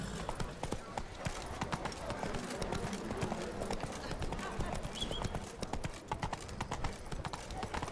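Roach the horse gallops in The Witcher 3: Blood & Wine, a steady rapid clip-clop of hooves running through the whole stretch over a dense game soundscape, with a voice speaking briefly.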